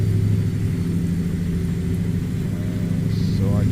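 A truck engine in a trucking video game on a route in Mexico gives a loud, constant low rumble with a steady droning pulse, holding even without revving; no one talks.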